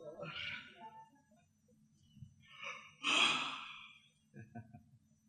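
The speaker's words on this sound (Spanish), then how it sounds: "¿Quiere bostezar? Bostece. Yo también voy a bostezar." Several breathy yawns and sighs come from people stretching during a church talk, including one long, loud open-mouthed exhale near the middle, with murmuring and soft voices between them.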